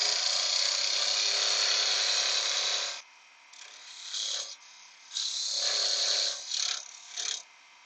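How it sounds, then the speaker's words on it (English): A woodturning parting tool cuts into spinning wood on a lathe for an earring holder, first as a continuous harsh scraping hiss, then in several short separate bursts with quiet gaps between. "with your parting tool, just make those wee cuts"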